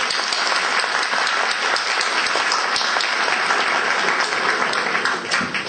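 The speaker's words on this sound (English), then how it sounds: "we should have a round of applause for all of the organisers" Sustained audience applause for event organisers at a Mon National Day gathering in the UK, a full, even roar of many hands clapping throughout with no break.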